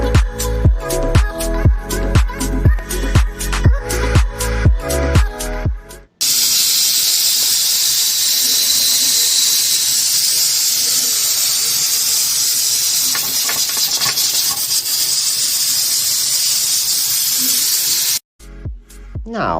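A pressure cooker cooking kabocha squash soup on the stove, with a few seconds of plucked music followed by a loud, continuous hiss of escaping steam that holds steady for about twelve seconds before cutting off.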